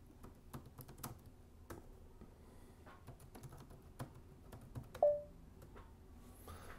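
Keys tapped in short irregular bursts on a computer keyboard while a password is entered over SSH to a Raspberry Pi, close and fairly quiet, with one brief tonal blip near the end and no talk.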